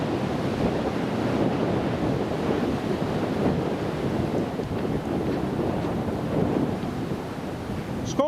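Steady wind blowing outdoors at an airport, a continuous broadband roar buffeting the microphone throughout with no breaks or voices.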